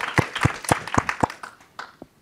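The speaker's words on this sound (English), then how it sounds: "Let me give you a round of applause to everybody for just that portion of our afternoon" An audience at a climate change event gives a brief round of applause, a handful of sharp distinct claps close together that thin out and stop within about two seconds.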